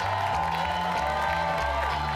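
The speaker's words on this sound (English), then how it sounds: "How about a big round of applause for our first African-American of the evening" A comedy club audience at Gotham Comedy in New York applauds and cheers as a comedian comes on stage, a dense, steady wash of clapping and whoops with a low musical beat pulsing underneath.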